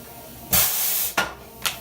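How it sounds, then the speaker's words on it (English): A hot foil press machine in a print shop lets out a sharp hiss lasting about half a second, followed by two shorter hisses, close and fairly loud. "The machine behind me is a hot foil press."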